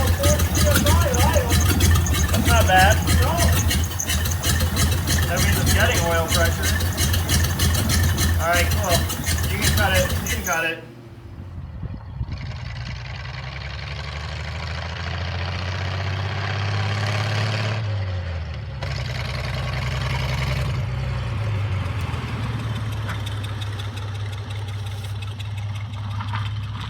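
Loud, rough engine noise from a 1929 Durant running without its exhaust, revving at first, then settling into a steady low idle with slight variations in pitch.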